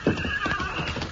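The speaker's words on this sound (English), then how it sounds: "There are 4 horses tied over there by the bank." Horse hooves clip-clopping in an old 1952 western radio drama, a close, brisk run of hollow hoof beats with a brief whinny, the studio effect heard alone without talk.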